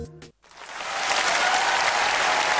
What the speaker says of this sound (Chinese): 谢谢大家伙的掌声鼓励